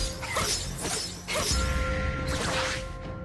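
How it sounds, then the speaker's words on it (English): A turret in Mobile Legends is destroyed with a loud crashing, shattering impact and whooshing debris, followed by a second heavy crunch and ringing tones. "Your team destroyed the turret!"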